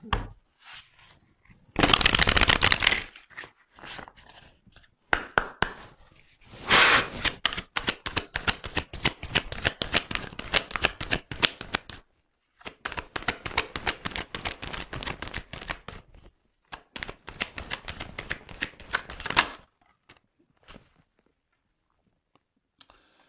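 Tarot cards are shuffled and drawn during a card reading, making dense runs of rapid papery clicks and riffles in several long bursts separated by short pauses, close and fairly crisp.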